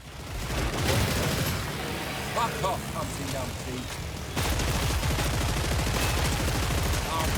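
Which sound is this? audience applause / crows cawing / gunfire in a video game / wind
gunfire in a video game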